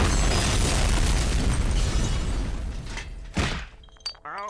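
Cartoon self-destruct device, coin-operated, goes off in a long, loud roaring blast with crumbling debris, then a sharp secondary crack and small scattered clinks and squeaky tones as it dies away.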